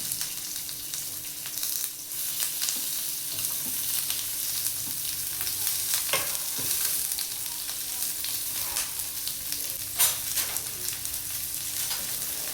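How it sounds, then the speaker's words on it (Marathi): Onion frying in hot oil in a heated pan for a home-style chole bhaji, giving a steady, close, broadband sizzle with occasional scraping clicks of stirring throughout. "आता तेल गरम झालेलं आहे, त्याच्यामध्ये कांदा टाकून घेऊया."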